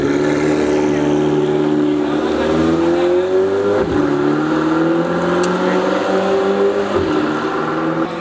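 A 4-litre turbocharged supercar engine, likely a Lamborghini, revs loud and close, pitch climbing through the gears in long rising pulls with a brief shift break, people talking faintly underneath.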